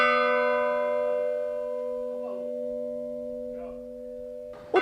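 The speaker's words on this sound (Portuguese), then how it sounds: "O toque dos sinos foi tombado como patrimônio imaterial do Brasil." A church bell in a town in Minas Gerais, Brazil, rings out a sustained, slowly decaying tone with faint voices beneath it, and a fresh strike sounds at the very end.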